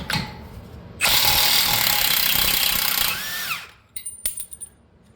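Impact wrench or power tool loosening the CV axle nut on a 2018 Ford Escape 1.5L EcoBoost, a loud sustained rattling burst of about two seconds that winds down, followed by a few light metallic clinks.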